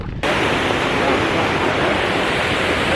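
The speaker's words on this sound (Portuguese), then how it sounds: "o barulho da água aqui na Fontana di Trevi é um negócio assim ensurdecedor" Water rushes and splashes at the Trevi Fountain in Rome, a loud, dense, unbroken roar that fills the whole scene from the first moment.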